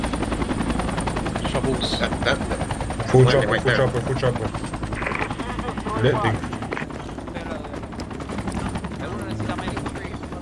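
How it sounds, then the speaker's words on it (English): Enemy helicopter in the Project Reality military shooter, a steady rotor drone running under the whole stretch with some loud bumps and gunfire-like bursts, while players talk over it. "Enemy helo south."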